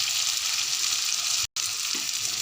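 Jackfruit masala frying in oil with salt and turmeric, a dense, even sizzle close up with soft stirring underneath, broken by one brief dropout midway.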